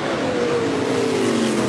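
NASCAR Whelen Modified race cars roar past on the Charlotte Motor Speedway oval, a loud, continuous engine drone with a slight falling pitch as they go by.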